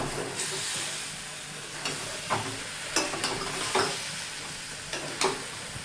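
Fried cauliflower is stirred into sautéed spice paste in a pan, producing a steady moderate sizzle with intermittent scraping and clacking strokes of a spoon, close and without talk.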